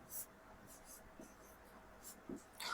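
A pen writing on paper, faint scratchy strokes in short bursts with pauses between them, close and quiet with no talk over it.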